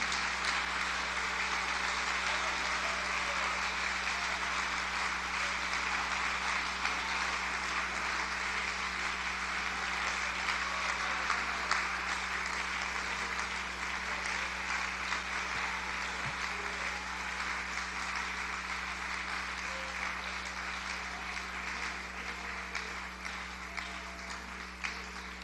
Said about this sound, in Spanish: Usted sabe lo que es darle un aplauso de corazón a Cristo.